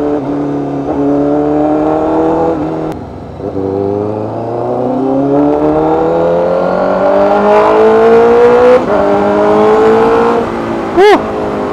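A Honda CBR1000RR-R Fireblade SP superbike with a reflashed ECU accelerating hard through the gears, loud close engine note climbing in pitch with abrupt gear-change dips, ending in a sharp high rev spike.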